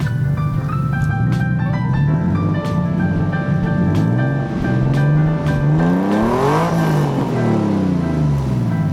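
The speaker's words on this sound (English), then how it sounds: "But for the exhaust itself, one problem is that the new exhaust leaks." A Nissan 300ZX with a leaking exhaust drones and rasps as it runs, its engine note sweeping up and down through revs and gear changes, loud and close, with sharp ticking clicks scattered over the steady engine roar.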